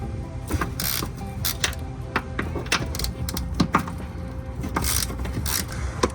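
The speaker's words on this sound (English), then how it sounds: "I'm gonna have to remove this whole support brace right here, which just has these standard 13mm sockets" A ratchet works 13mm bolts loose from the support brace on a 2011 BMW 335i E90, producing irregular close clicks, clacks and metallic knocks with short pauses between bursts.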